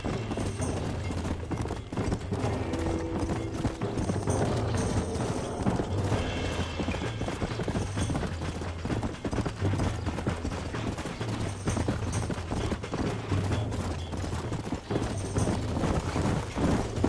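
Horse hooves clip-clop steadily in the video game Red Dead Redemption, a rhythmic trotting beat running the whole length under a constant bed of game music and ambience, with no speech.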